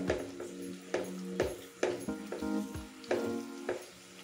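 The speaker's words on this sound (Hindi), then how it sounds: "इसी पैन में हम ये सारा मसाला ऐड कर देंगे, इसकी ग्रेवी तैयार कर देंगे। अच्छे से हम नीचे से चम्मच को चलाते रहेंगे।" Masala gravy for Afghani chicken sizzles and fries in a pan while a spoon stirs it in repeated scraping strokes, close and steady, with no talk.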